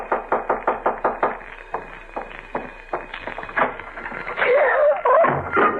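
Knocking at a door in a 1948 radio drama, a quick run of about nine sharp raps, then a few scattered knocks, followed by muffled sounds and a voice toward the end.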